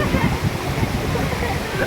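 Loud, steady rushing of a flowing river fills the whole short stretch, close and continuous, with a voice faintly mixed in.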